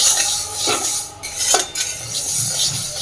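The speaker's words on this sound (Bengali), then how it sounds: "এবার ডালটাকে শুকনো অবস্থাতেই হালকা করে একটু ভেজে নেব" Dry mung dal being stirred and roasted in a pan with a utensil, a steady close scraping and rattling of lentils against metal, with a few sharper clinks.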